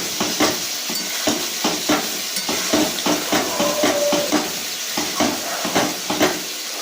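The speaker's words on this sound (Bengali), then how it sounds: "এবার এটাকে আমি ভালো করে কষতে থাকবো যতক্ষণ না পর্যন্ত জলটা টেনে যাচ্ছে" Spiced potatoes and onions frying with turmeric in a pan, stirred with a utensil that scrapes and clinks in a steady rhythm over a constant sizzle, close and fairly loud.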